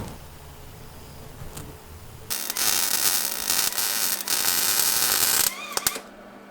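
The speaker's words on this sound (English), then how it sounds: "do a full weld on the brackets, the front and the rear here" MIG welding on the brackets of a custom exhaust for a budget crawler build, a steady loud crackling buzz running for about three seconds, then a few short bursts, close up with no talk.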